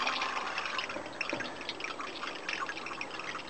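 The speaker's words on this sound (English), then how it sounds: "It's all just draining out." Water drains steadily out of a freshly cleaned truck part into a tray, a close, continuous dense trickle and patter of small drips with no talking.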